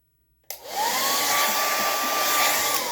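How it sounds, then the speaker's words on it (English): Quiet, then a hair dryer clicks on and roars steadily at close range, a high whine riding over its rushing air. "go in with the blow dryer"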